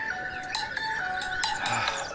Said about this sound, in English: Bloody phone.